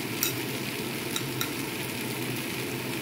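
Mutton curry sizzling loudly in a pan as it is stir-fried with cumin powder and other spices, a steady, dense frying hiss with a few faint scrapes of the stirring utensil.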